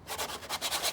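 Sandpaper rubbed between a brace and the top of an archtop bass during a cracked-top repair, a short run of steady rasping strokes, close and quiet with no talk.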